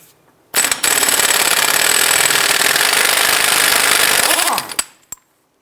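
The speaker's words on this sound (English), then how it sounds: "I'm going to go ahead and remove our CV axle nut using a 32mm socket." Impact wrench spinning off a CV axle nut with a 32mm socket on a 2001-2007 Ford Escape during wheel bearing and hub replacement: one loud, continuous rattling hammer burst lasting about four seconds, close up, then silence.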